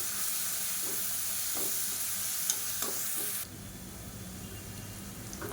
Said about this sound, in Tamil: 1 டேபிள் ஸ்பூன் அளவு இஞ்சி பூண்டு பேஸ்ட்டு சேர்த்து நல்லா வதக்கிக்கலாம்